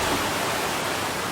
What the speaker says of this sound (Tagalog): Rumagasa ang baha sa Cagayan de Oro City dahil sa malakas na ulan.